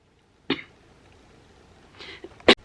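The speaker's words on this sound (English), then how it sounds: "That escalated into a coughing fit that I couldn't stop." Two separate coughs from one person, a sharp burst early on and a stronger one near the end with a softer throaty sound just before it, close to the microphone in an otherwise quiet room.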